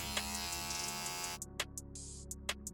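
Electric hair clippers buzz steadily up close while blending a taper haircut, the continuous motor drone breaking into short bursts and stops as the lever is worked for detailing.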